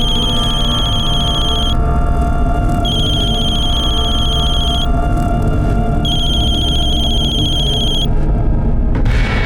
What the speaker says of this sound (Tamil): த்ரிஷா, நீ எதுக்காக ஃபோன் எடுக்க மாட்டேங்கிற?